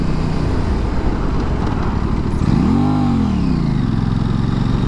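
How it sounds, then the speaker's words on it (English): An Aprilia RS660 mid-sized twin motorcycle under emergency braking, its engine roaring with heavy wind rush, then a quick rising-and-falling rev swoop before settling into a steady lower drone. "as we're coming into this slower speed zone, I'm going to do an emergency brake"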